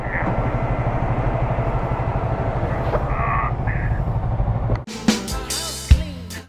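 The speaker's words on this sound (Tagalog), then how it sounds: "Park lang namin yung mga motor." Triumph Speed 400 motorcycles and others idling with a steady low engine rumble while being parked outside a coffee shop in Batangas, then the engines cut off and a few sharp clunks and knocks follow, close by.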